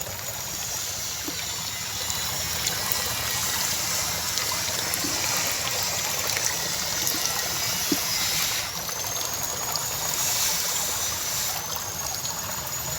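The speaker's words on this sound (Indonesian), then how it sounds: "harus terus mengalir airnya ya, seperti ini nih" Water runs steadily through a soilless silkworm (Tubifex) rearing setup, an even, continuous trickle and flow from start to finish with a soft pump-like hum beneath.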